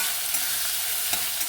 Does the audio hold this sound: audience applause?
no